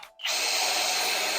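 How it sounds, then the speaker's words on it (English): A power drill whirs continuously against a PC case during a gaming PC build, starting after a brief pause and holding steady and loud, no talk. "I might have had to drill it"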